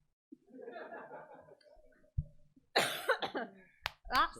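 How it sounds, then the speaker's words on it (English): A person with flu coughs several times in short, rough bursts, with throaty rasping between them and a final harsh cough. "I have a genuine cough from the flu."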